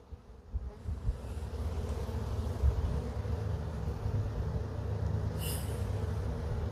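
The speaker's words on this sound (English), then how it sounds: "Flying bees will fly off." Honey bees fly around an open hive during a nuc transfer, making a continuous low buzzing drone close to the listener that stays fairly even throughout.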